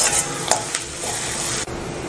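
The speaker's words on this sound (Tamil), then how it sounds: "வெங்காயத்தை நல்லா பொன்னிறம் ஆகிற வரைக்கும் நல்லா வறுத்துக்கணும்." Chopped onions fry toward golden in hot oil with a loud, even sizzle, and a utensil clinks and scrapes against the pan a few times.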